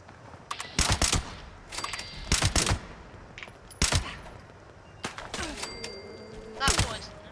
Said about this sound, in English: I'm gonna chuck a grenade at them and shoot them down.